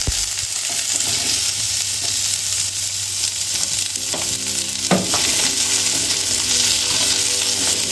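Onion frying in a pan gives a continuous loud sizzle with occasional stirring scrapes and clinks partway through, heard alone without speech.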